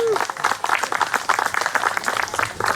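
Audience applause for Senator Sandy Pappas at a public gathering for the HMONG Plaza, a steady patter of many hands clapping with a brief tonal blip at the start and some voices mixed in.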